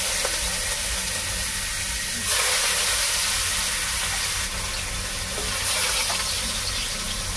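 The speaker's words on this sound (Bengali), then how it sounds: "এই যে পেঁয়াজ কুচি দিলাম" Chopped onion dropped into hot oil already fried with cumin seeds, cooking for a mourala fish curry: a steady, broad sizzling hiss that grows louder about two seconds in and holds throughout, with no voices.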